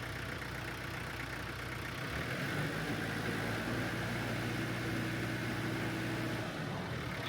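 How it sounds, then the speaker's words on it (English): A tractor engine idles steadily nearby with a low, even rumble and slight fluctuations in pitch, continuing throughout with no voices. "So in my case, this tractor's running."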